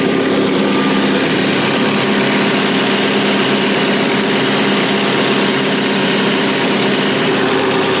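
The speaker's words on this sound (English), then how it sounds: "So other than the horrible noises the engine usually makes," A Vauxhall Astra H engine idles steadily after an exhaust flexi downpipe replacement, giving a loud, constant, close-up drone with no variation in pitch or rhythm.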